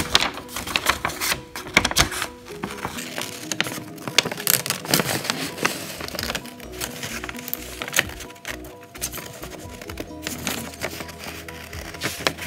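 Scissors cut paper shapes for a textured collage: crisp, irregular snips and rustling paper at close range, with no talking.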